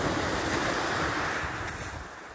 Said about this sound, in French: Je vous laisse sur le bruit des vagues.